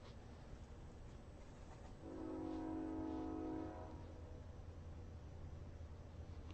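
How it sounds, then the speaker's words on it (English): A train rumbles steadily in the distance, then sounds a sustained horn for about two seconds midway before the low rolling rumble carries on, heard faintly near a beach. "I hear the train."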